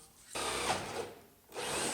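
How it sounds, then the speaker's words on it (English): A power drill bores a hole into a wooden stair tread, two sustained bursts of whirring and grinding split by a brief pause, loud and close with no talking. "so let's drill the other hole"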